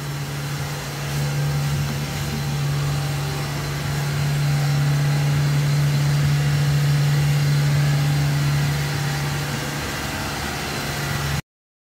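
A 2005 Nissan X-Trail T30 idles steadily, heard right at the exhaust tip: a smooth, constant low hum with even rumble and no revs, up close and with no voices.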